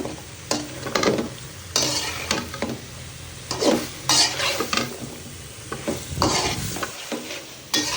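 Greens stalks and potato pieces sizzle steadily in hot oil as a spatula scrapes and stirs them around the pan, close and loud throughout with irregular scraping strokes.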